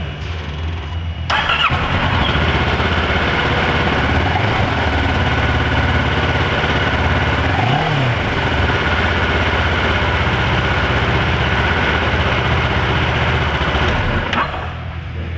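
A fuel-injected 2009 Kawasaki EX650R Ninja sport bike cranks and fires up after about a second, then settles into a loud, steady idle close by for over ten seconds before cutting off near the end.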